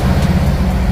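A 2025 Harley Davidson Road Glide fitted with a SharkRoad slip-on exhaust idles with a loud, steady, deep rumble, up close and uninterrupted.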